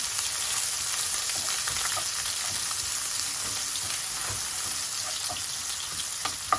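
Half an onion, chopped, fries in a pan with a continuous close sizzle and hiss, with occasional light clicks and taps near the end.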